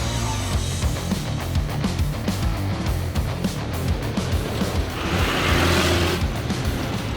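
Diesel twin-turbo monster truck Chimera driving, a loud, steady low engine roar with rumbling pulses that swells briefly near the end, heard alone without talk.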